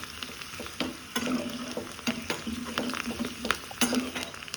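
Mustard seeds and spices sputter in a hot pan as a tempering for sambar, a steady near sizzle broken by crackling pops and the scrape of stirring, no voices.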